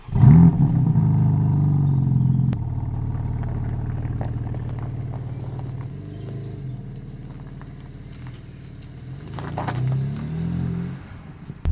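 A BMW G80 M3 with the S58 twin-turbo 3-litre straight six and Evolve downpipes fires up with a loud initial flare, then settles into a steady, slightly lumpy idle with a small blip near the end.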